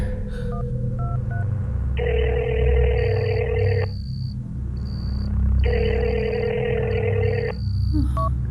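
A phone call's ringback tone: a few short beeps, then two long ringing bursts separated by a pause, clear and close.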